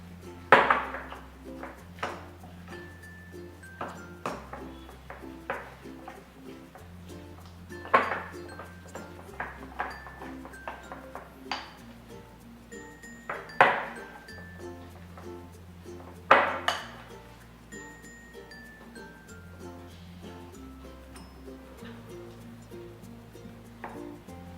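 A spoon clinks and scrapes around a bowl as rava appam batter is thinned with water and mixed, giving a series of sharp metallic taps and knocks at an uneven rhythm, close and fairly loud, with no talking.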